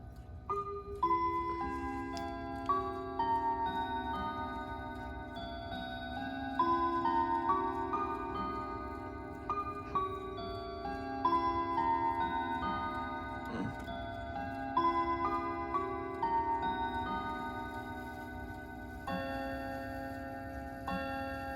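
A mantel clock, just adjusted to chime and strike on time, rings out a sustained sequence of resonant chime tones at eight o'clock with a steady tick beneath, close and clear with no voices.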